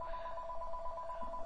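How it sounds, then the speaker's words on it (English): A telephone rings indoors with a steady electronic trilling bell tone, moderately loud and continuous across the clip, and nobody speaks over it. "Sorry about the phone."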